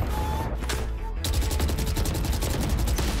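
Rapid automatic gunfire from a weapon in the video game Valorant, a dense stream of sharp shots close up, pausing briefly before continuing in a fast steady burst.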